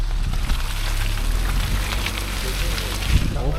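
Rain drumming on a taxi in the Amazon rainforest on the highway from Porto Velho to Manaus, a steady broadband wash of drops with low road rumble beneath and faint talk at times.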